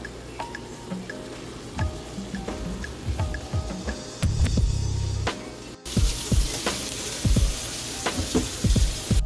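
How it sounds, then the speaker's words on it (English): Chicken frying in canola oil in a pan on medium heat, a steady close sizzle with scattered pops and crackles, growing louder and brighter partway through. "spray some canola oil into a pan and cook the chicken on medium heat, turning it over once I start to see it turn white"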